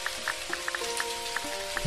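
Steady rain patters throughout a rainy day in the video game Dinkum, a dense wash of drops with small distinct plinks scattered irregularly across the continuous hiss.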